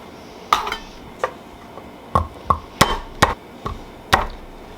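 A knife slicing pork on a cutting board, about ten sharp, separate knocks of the blade against the board at an uneven pace, close and clear over a quiet room hum.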